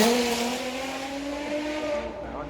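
Two-seat sports car with tandem seating driving past, a steady tonal engine note whose pitch glides downward as it goes by, fairly faint with a trailing rush at the end.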